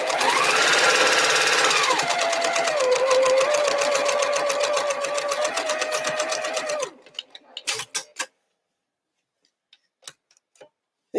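A sewing machine stitches quilt fabric in a fast, steady mechanical whir that shifts speed for about seven seconds, then stops, followed by a few faint clicks and handling sounds.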